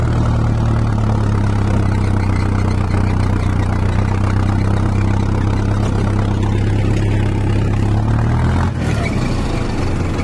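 An Arjun Novo 605 tractor engine runs steadily with a rotavator in hard ground, a loud, close, low throbbing drone that holds constant before a brief shift near the end.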